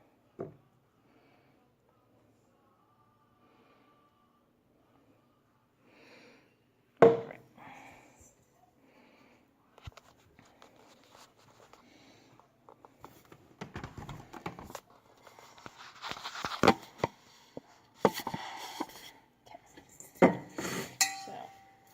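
Drained, freshly churned butter being tipped into a bowl beside a blender, with scattered clinks and clunks of the container and utensils building into busier clattering toward the end, close by.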